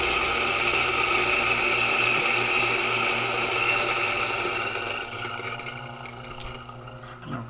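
Eureka Mignon Specialita coffee grinder grinding a single 15-gram dose of beans, a loud, steady mechanical whir close by that eases into a lighter pitch near the end, with no talking.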